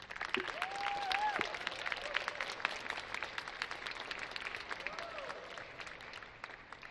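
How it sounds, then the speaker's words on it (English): Steady applause from a student convocation crowd, a dense patter of clapping that holds for several seconds, with faint voices and a brief whistle mixed in. "Can we give her one more round of applause?"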